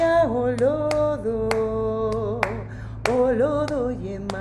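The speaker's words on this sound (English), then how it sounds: "And what I was clapping is it's a Cuban rhythmic pattern that is very. Very common." Hands clap a Cuban rhythmic pattern, sharp irregularly spaced claps that cut through a sustained singing voice.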